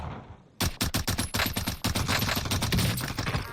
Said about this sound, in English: So let me just show you some quick examples and what I mean by burst fire.